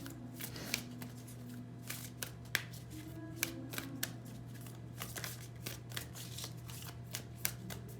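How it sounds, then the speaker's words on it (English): A Moonology oracle card deck is shuffled up close, with repeated soft riffling and slapping card flicks in an irregular rhythm and no talk. "I feel like we need one more card from the Moonology deck here."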